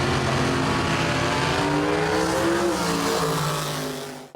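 Drag racing cars at a drag strip, a loud, sustained engine roar with rising revs and a trailing Doppler-like sweep before cutting off.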